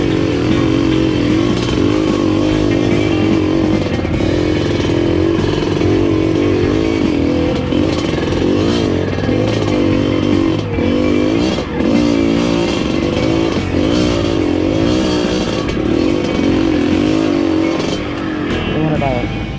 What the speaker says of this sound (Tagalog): Lubog yung motor hanggang sa makina.